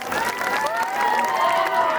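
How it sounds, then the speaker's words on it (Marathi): A crowd at a zilla parishad school annual gathering cheers loudly, with high children's voices shouting over scattered clapping, steady and close throughout. "जोरदार टाळ्या झाल्या पाहिजेत."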